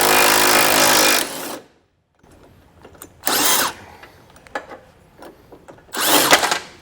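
A power tool backs out the bolts of an EcoHitch hidden front-mount trailer hitch on a 2017 vehicle, with three loud bursts of rattling, whirring drive separated by quiet gaps and faint clicks.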